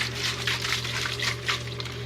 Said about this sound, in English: Let me get some water so we can get all of that juice.